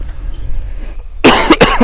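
A sick man coughs twice in quick succession, loud and close, after a moment of quiet background noise.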